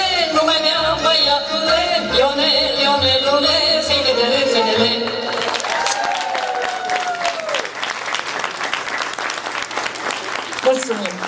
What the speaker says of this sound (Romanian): Aplauze, doamnelor și domnilor